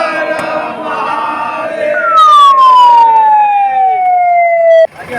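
An advanced life support ambulance siren sounds loud and near, a long wailing tone sweeping downward over several seconds before cutting off abruptly, with traffic and crowd noise beneath.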